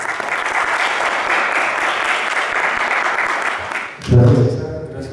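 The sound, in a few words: audience applause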